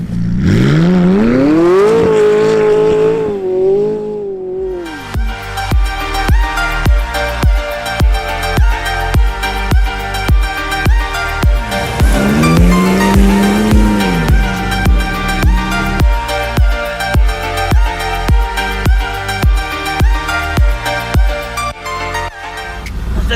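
A McLaren 570S sports car drifting on ice, its engine revving high and rising and falling steadily, with a pulsing, continuous roar close by throughout.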